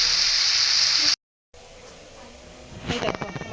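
Meat frying in a pan gives a loud, steady, close sizzle that cuts out abruptly, then returns softer with some stirring clatter.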